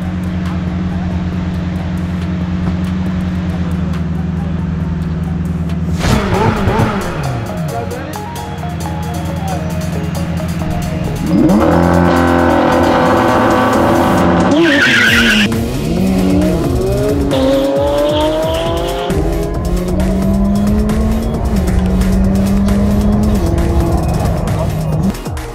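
Lamborghini Aventador SVJ and McLaren 600LT drag racing, loud engine roar rising through gear changes with high tire squeal as the wheels slip, heard from inside amid continuous wind and road noise, with people talking over it.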